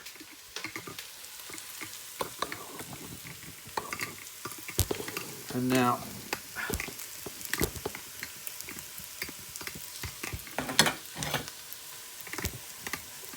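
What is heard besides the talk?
onions frying in a pot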